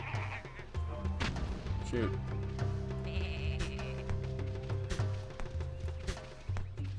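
Sheep in the Tak and the Power of Juju video game bleat in short bursts over a low droning game soundtrack and effects, while a player talks over them.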